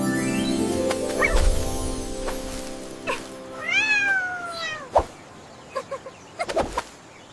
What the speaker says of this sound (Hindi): हेलो नन्ही किट्टी, क्या तुम रास्ता भटक गई हो?